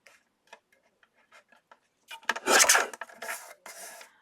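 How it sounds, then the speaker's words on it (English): A paper card gets its edges trimmed: a run of quiet dry ticks first, then a louder rasping slice and a few shorter cutting strokes, close up, with no one speaking. "So when I trim that, then I've got to trim all 4 sides again."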